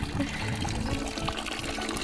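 Water gushes steadily into bottles as they are filled outdoors. The sound is close, continuous and fairly quiet.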